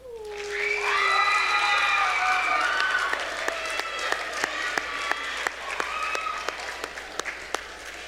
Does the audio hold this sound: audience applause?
yes